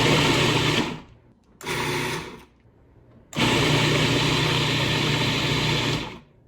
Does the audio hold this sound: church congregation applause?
no